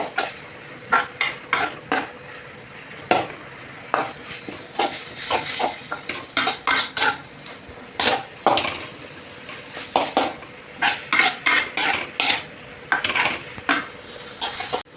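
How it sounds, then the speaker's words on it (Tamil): Onions and tomatoes sautéing in a pan for a chicken kulambu, with a spoon stirring in frequent sharp scrapes and knocks against the metal over a soft, steady sizzle, close and fairly loud, without speech. "தக்காளி நல்லா வதங்குற வரைக்கும் வதக்கிட்டே இருக்கணும்."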